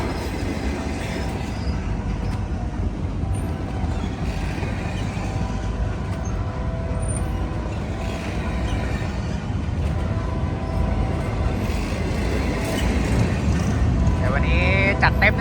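A BNSF freight train with locomotives rolls past at close range, a steady loud rumble of railcars and wheels with faint squealing, while people speak over it.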